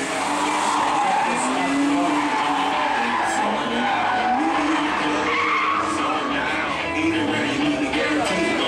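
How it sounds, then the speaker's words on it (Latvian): BMW 328 race car tearing around a racing circuit, a continuous loud engine roar with tire skidding and squeal throughout, crowd or commentary noise mixed underneath. "Un ar 54. numuru Brunors Laidāns, BMW 328."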